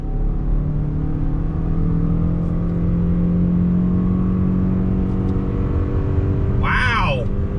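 A 2021 Toyota RAV4 Prime plug-in hybrid accelerates from a dead stop with a loud, steady engine drone and a gradually rising whir heard from inside the cabin, followed by a brief burst of speech at the end.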